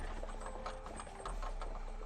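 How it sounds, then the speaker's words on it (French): A black carriage drawn by six horses moves along, the hooves clip-clopping in a steady, fairly faint rhythm over a soft background hiss. "un grand carrosse noir tiré par 6 chevaux traverse l'allée de Tilleuls et se dirige vers la tour carrée"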